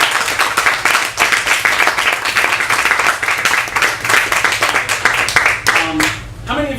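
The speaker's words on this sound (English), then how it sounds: "Please give a giant round of applause for Keith." An audience at an author's reading claps steadily in loud, dense applause that carries on for several seconds before fading as a voice begins.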